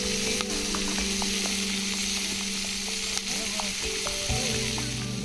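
Chicken frying in a pan outdoors in a South Goa jungle, a loud continuous sizzle and crackle heard up close, with faint occasional stirring clicks and steady background hum throughout.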